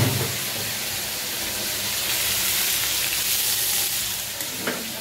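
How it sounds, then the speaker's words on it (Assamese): Pork sizzles steadily in a hot wok with no oil, a close, continuous frying hiss with a brief stirring clatter near the end and no talking. "প্ৰথমতে মই তেল নিদিয়াকৈ মাংসখিনি অলপ ফ্ৰাই কৰি ল'ম"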